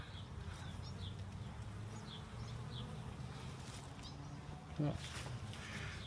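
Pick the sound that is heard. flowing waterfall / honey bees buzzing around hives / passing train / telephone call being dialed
honey bees buzzing around hives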